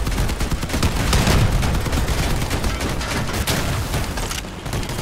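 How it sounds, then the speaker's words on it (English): Shotgun fire in the vehicle combat game Crossout sounds as loud, rapid, overlapping blasts amid constant battle noise. The shooting is sustained throughout, with no voices. "I don't want to get in the way of those shotguns"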